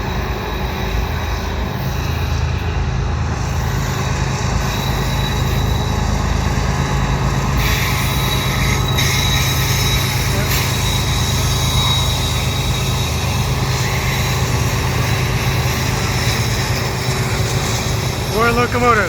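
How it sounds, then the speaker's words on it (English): CN mixed freight train hauled by four locomotives passing at Ville St Pierre, a loud, sustained rumbling roar of diesel engines and rolling cars throughout, close by with no breaks. "It sounds like a CN train is coming at St."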